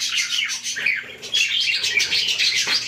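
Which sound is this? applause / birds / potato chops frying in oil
birds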